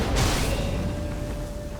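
Shock Storm lightning spell cast in the video game For The King II: a loud burst at the start fading into a sustained crackling, humming rumble with a faint tonal whine, no speech.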